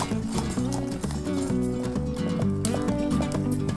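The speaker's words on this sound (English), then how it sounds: "this area is the perfect spot to go horseback riding" A horse trots during a horseback ride on Usedom island on Germany's Baltic coast, with steady clip-clop hoofbeats that are partly buried under loud, continuous music.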